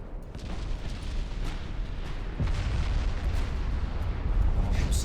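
Battleship secondary guns firing in the naval game Ultimate Admiral Dreadnoughts, a loud, dense rolling barrage of booms and sharp reports over a heavy rumble, with a strong blast about halfway through.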